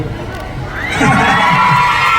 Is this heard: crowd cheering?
yes